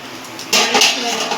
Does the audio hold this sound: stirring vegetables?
yes